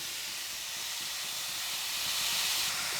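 Steady sizzling hiss of radish frying in hot oil, continuous and close, growing slightly louder toward the end, with no voices.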